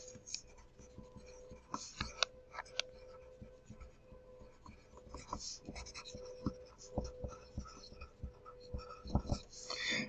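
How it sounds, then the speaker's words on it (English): A pen writes notes on paper with quiet, close scratching strokes and short taps, in irregular bursts over a faint steady hum. "So I'm going to write that on my list right here."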